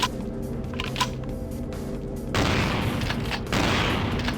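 Gunfire in a vampire video game, two sharp bursts of shots standing out over background game sound and an earlier quieter stretch.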